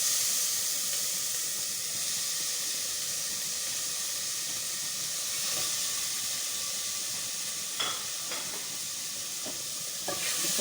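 Tomatoes and garlic frying in a little oil for spaghetti with meatballs, giving a steady close sizzle and hiss throughout, with a few brief stirring clicks and scrapes near the end.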